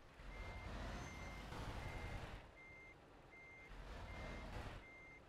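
A heavy truck in Euro Truck Simulator 2 reverses into a parking spot, its steady evenly spaced reversing beeps sounding over a low diesel engine rumble.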